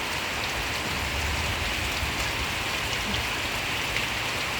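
Rain falling steadily on a garden, a dense, even hiss of drops striking surfaces, loud and continuous with no voices.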